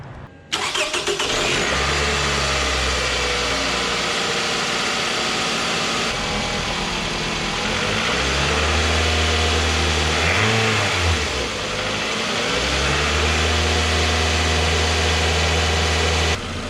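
A Toyota Camry engine cranks and fires right up after radiator replacement, revving briefly before settling into a steady close idle, with a couple of throttle blips rising and falling; no talk over it.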